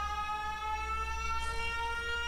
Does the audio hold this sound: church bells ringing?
no